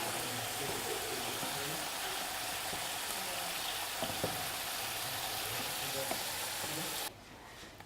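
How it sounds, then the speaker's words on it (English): Bacon frying in a pan, a dense continuous sizzle with faint stirring, close and steady, dropping away sharply near the end. "So we're just going to fry off the bacon a little bit."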